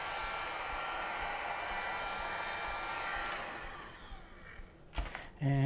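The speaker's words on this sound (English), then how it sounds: "Continue heating the tape up with the heat gun, just so it's sort of extra hot and sticky" A heat gun blows steadily and loudly for several seconds while warming adhesive tape on a Mitsubishi Lancer Evolution X carbon fiber grille, then its airflow cuts and sputters near the end with brief handling noises.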